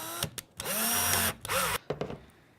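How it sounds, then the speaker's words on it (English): A power driver sinking screws into a repair housing, several short whirring bursts of rising and falling pitch with brief stops between, close and fairly loud. "And then we can go ahead and start doing screws."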